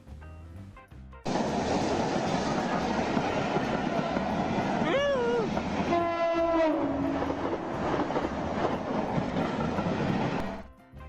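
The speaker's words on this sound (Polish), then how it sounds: "przez który ekspres przejeżdża przy pełnej prędkości" An express train roars past at full speed through a stop, its horn sounding in a couple of blasts over the rushing rumble before the noise cuts off.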